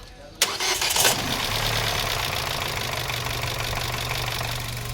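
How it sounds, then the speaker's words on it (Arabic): A car engine cranks briefly and catches, then settles into a steady, low idle close by that continues to the end. "وهشغل السيارة"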